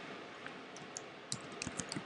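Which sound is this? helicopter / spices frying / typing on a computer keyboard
typing on a computer keyboard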